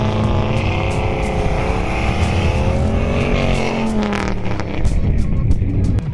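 Heavy engine roar of a lifted truck straining as it is pulled free from being stuck, with a tow truck hooked up, loud and sustained with rising and falling revs throughout.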